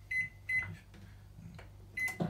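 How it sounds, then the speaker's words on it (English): A microwave oven runs while heating a Sistema egg poacher, giving a low steady hum with faint repeated higher beeps and clicks, quiet and close. "we'll put it in the microwave for about 50 seconds"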